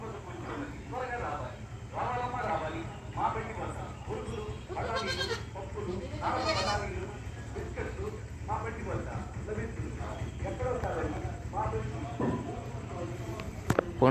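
Goats on a village farm, including a black goat with some white and a mother with her young, bleat repeatedly in short calls over a steady low hum while a person talks throughout.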